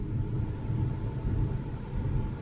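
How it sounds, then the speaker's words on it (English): Thunder during a storm, a low, distant rolling rumble that swells and fades steadily throughout, with no talking. "it's storming, if you just heard that thunder"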